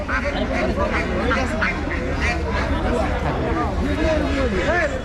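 Harsh, repeated guinea fowl cackling rings out over a busy village market crowd with steady background chatter throughout.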